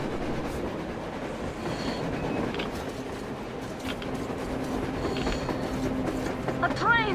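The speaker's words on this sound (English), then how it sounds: "A train! A damn train on the surface!" A train passes in Metro Exodus on the surface, a loud steady rumble and rolling clatter with a rising metallic squeal at the end, while voices talk over it.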